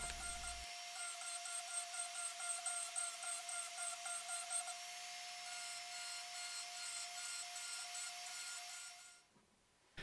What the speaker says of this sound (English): the fastest way I go about that, I thought, would be to use a Dremel tool